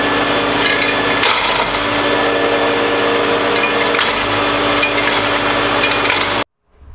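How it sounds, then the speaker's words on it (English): Home-made ore crushing mill smashing rocks, a loud continuous grinding and rattling roar with scattered impacts, running steadily for about six seconds before cutting off abruptly. "Smash some more rocks."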